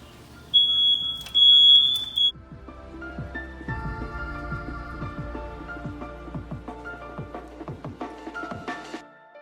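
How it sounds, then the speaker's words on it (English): A smoke alarm set off by a roasting turkey beeps in a high, steady tone in a kitchen for about two seconds, then stops, followed by scattered clatter and knocks as the bird is pulled out. "fire alarm go off because of this thing, but all is well"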